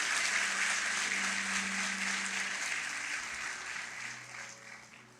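A church congregation keeps up sustained applause, many hands clapping in a dense continuous roar that slowly thins and softens toward the end.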